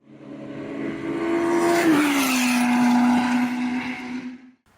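A Formula BMW FB02 open-wheel race car accelerates hard. Its engine note climbs, dips briefly on a shift, then holds a loud, sustained drone before fading out.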